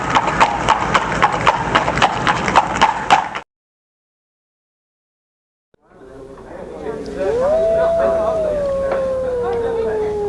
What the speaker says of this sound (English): It was a wolf's howl, Governor.